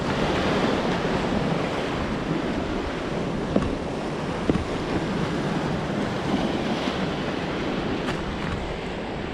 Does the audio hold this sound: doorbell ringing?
no